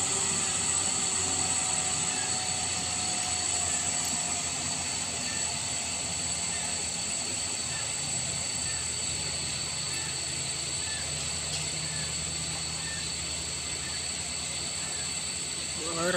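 A heavily loaded truck's engine drones loud and continuous as it powers up an extreme steep incline at Kedabuhan, with steady roar and rising tonal whine throughout, no pauses.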